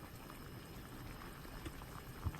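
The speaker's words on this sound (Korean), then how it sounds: "와, 보글보글 잘 끓습니다. 소리를 들어보세요." Spicy Korean braised chicken stew bubbles as it boils in a pot, a faint, steady simmering patter with small pops rising now and then, heard alone and fairly quietly.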